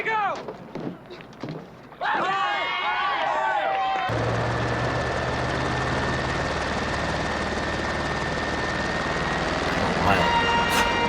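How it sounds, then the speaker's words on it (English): Helicopter from the film Jaws 2 landing on water, a loud sustained rotor roar with thumping blades that swells near the end, after brief tonal music and people reacting in speech beforehand. "Chopper hitting the water!"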